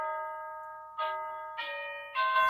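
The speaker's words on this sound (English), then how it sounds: "There goes the doorbell again." A doorbell rings indoors, loud and close, with sustained tones followed by three sharper struck chimes in a rising sequence and no talk over it.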